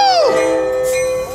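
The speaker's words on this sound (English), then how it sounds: "That's a quick bell, too." Bell on a train at Carlsbad Village Station, with Amtrak, BNSF and Coaster trains passing through, rings as a steady sustained tone starting with a falling pitch, loud and close, alongside horn-like tonal sounds.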